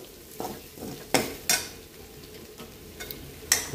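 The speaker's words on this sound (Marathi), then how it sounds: "चांगलं हलवून घ्यायचं आहे" Bombil (Bombay duck) rice being stirred in a pot with the gas turned off, giving a few scattered scraping and clinking strokes of a spoon against metal, moderately near and with no talk.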